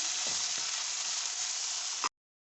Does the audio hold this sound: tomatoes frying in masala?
yes